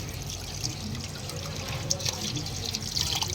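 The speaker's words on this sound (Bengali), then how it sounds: "এই যে মাছ ধোয়া হচ্ছে এই কলটা সারাদিন জল পড়ে না রে" Water running steadily from a tap as fish are washed beneath it, a continuous splashing hiss with small irregular spatters, close and moderately loud.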